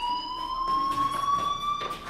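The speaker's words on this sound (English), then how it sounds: "do you hear that fire alarm? That means you should be outside." A fire alarm rings steadily in the video game Life is Strange, a continuous electronic tone sounding at moderate volume over faint background noise.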